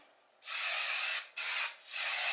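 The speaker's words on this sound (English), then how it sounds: "all I'm going to do is add a little bit of hairspray" Hairspray misted onto brush-styled curly hair in a few quick bursts: a long hiss, a shorter one, then a final spray, close and clear with no talk.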